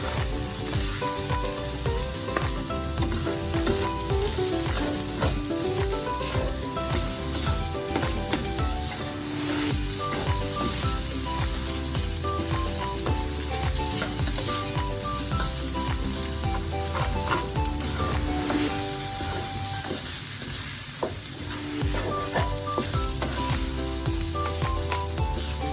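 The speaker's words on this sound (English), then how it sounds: "After adding your oyster sauce, remember to mix it." Rice and oyster sauce sizzle steadily in a hot pan as they are stir-fried for a breakfast rice bowl. The frying noise stays loud and continuous throughout, with tonal background music running underneath.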